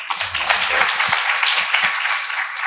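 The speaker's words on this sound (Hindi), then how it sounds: "आप अपने माता पिता के लिए एक बार जोर से ताली बजाएं।" An audience claps loudly for their parents in a sustained wash of applause, dense and steady, with a few low thumps underneath.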